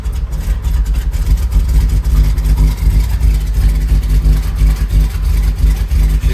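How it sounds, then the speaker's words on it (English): A 1977 Ford F250 Super Cab with a carbureted engine idles cold with the choke on, a loud, close, rough rumble that pulses unevenly, with no talking over it. "She's a little bit inconsistent idle, but it's pretty cold"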